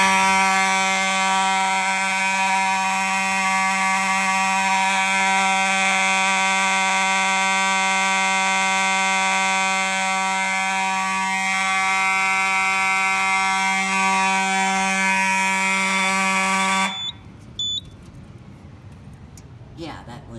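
Mechanical fire alarm horns blare loud and continuous during a system test, holding a steady buzzing tone before cutting off abruptly, followed by brief clicks and quieter room noise.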